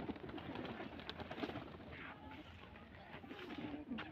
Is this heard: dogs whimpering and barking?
no